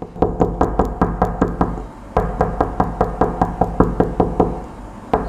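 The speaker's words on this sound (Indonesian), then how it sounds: "Ada yang gedor pintu rumahku." Loud, rapid knocking pounds on a door as a sound effect in a horror chat story. It comes in two long runs of evenly spaced heavy blows, briefly broken by a short pause.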